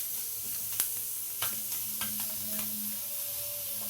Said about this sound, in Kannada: ಇವಾಗ ನೆಕ್ಸ್ಟು ಟೊಮೆಟೊ ಹಾಕ್ಕೋತಾ ಇದ್ದೀವಿ.